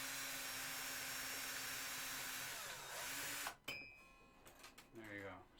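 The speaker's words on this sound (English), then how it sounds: "Now, I'll use the drill on this side so you can see how much quicker this whole thing could" A cordless drill with a winder bit spins the tuning pegs while restringing an electric guitar, a steady motor whine filling the first few seconds before stopping abruptly, followed by faint handling noises and a short spoken remark.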